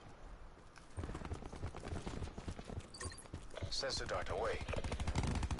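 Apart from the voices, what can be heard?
gunfire from video game Black Ops 4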